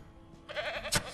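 Goat bleat from the farm game Ranch Simulator, a short wavering cry starting halfway through after a quiet moment, fairly close and clear with no talk over it.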